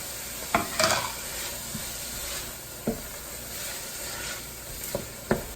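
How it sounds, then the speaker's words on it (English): Chopped white onion caramelizing in a pan for a seafood bisque: a low steady sizzle with a few scattered spatula scrapes and taps, nearby and fairly quiet, with no talking. "chopped up white onion. And we're going to let that caramelize a little bit."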